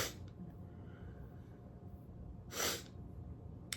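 Two short, sharp sniffs from someone with a runny nose, one at the very start and a louder one near the middle, over a quiet, low background hum.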